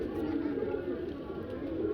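A pigeon coos steadily at close range, a low soft warble carrying through the whole moment, with some indistinct background chatter.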